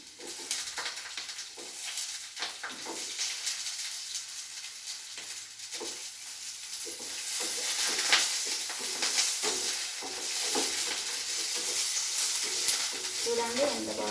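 Onions and green chillies frying in a pan make a continuous, loud sizzle and hiss, with scraping stirs throughout and no talking.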